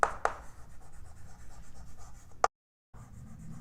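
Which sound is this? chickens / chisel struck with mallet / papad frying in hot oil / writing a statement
writing a statement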